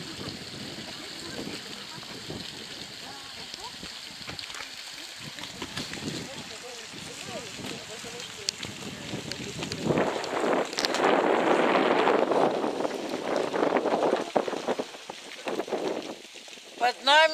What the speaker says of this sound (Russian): И водопад, который мы слышим